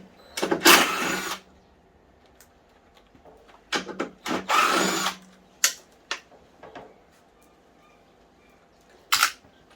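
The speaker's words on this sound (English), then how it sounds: "It would also help if I remove the screws in the front stem as well." A power drill removes screws from the front stem of an exercise bike being scrapped for metal: two longer whirring bursts and a few short clicks and rattles, close and fairly loud, with quiet gaps between them.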